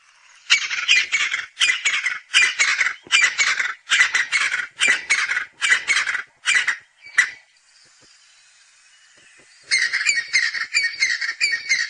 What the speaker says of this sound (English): Crested francolin. Listen to him.